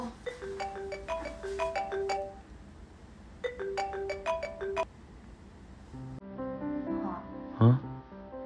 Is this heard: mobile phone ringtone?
yes